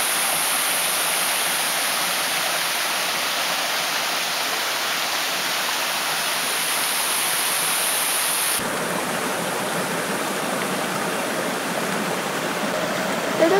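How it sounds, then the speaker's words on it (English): A jungle river rushes steadily and continuously, a broad hiss of flowing water with a slight shift in tone partway through; no talking. "And here's the river."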